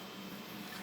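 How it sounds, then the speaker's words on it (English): An LDO Trident 250 3D printer runs steadily nearby, a low continuous motor hum with faint whirring that holds even throughout the short stretch, with no voices. "So there it is, it's printing."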